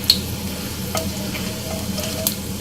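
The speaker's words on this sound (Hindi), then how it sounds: "एक पैन के अंदर मैंने थोड़ा ऑयल गर्म कर लिया, उसके अंदर मैं शामिल करूँगी ज़ीरा 1 चम्मच, और जीरे को यहाँ हम थोड़ा सा फ्राई करेंगे" Cumin seeds fry in hot oil in a pan, making a gentle continuous sizzle broken by a few sharp crackles and pops.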